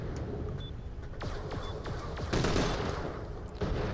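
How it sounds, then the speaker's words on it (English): A laser shotgun rifle firing in Borderlands the Pre-Sequel, a string of sharp zapping shots over steady game noise, loud and close, with no voices. "It's like a laser shotgun rifle"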